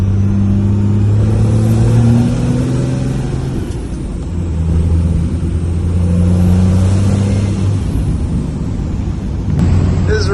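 A Cummins diesel crew cab truck with a new turbo revs repeatedly, its engine climbing and falling in pitch in several rising pulls with turbo whine, loud and close, with no talk.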